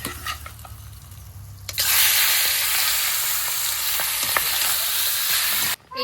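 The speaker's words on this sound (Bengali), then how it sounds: "এই যে মাছের মাথাও ভেজে নিচ্ছি" Fish heads drop into hot oil and burst into a loud, close, continuous sizzle that fills the pan for several seconds before cutting off abruptly near the end.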